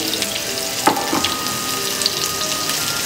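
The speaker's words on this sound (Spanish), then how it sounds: "nuestra cebolla y nuestro ajo, y lo vamos a estar aquí moviendo a que se vaya a sofreír perfectamente" Onion and garlic sauté in oil in a frying pan, giving a steady close sizzle with a few soft clinks of stirring.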